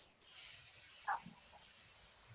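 A voice imitates a snake's hiss to teach the letter S, producing one long, steady, close hissing breath that starts abruptly and holds to the end, with a faint brief vocal sound midway.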